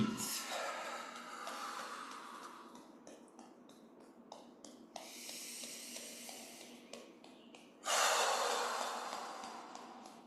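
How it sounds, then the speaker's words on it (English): Steady breathing during a mindful movement session, long airy inhales and exhales rising and falling continuously, with a louder, sharper exhale near the end and some faint clicks in between. "Continue to breathe"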